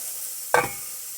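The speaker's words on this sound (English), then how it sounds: "we're going to saute these babies in this butter" Onions sautéing in butter in a 3-quart Instant Pot. A steady soft sizzle carries throughout, with one short stir or scrape standing out midway, close and alone.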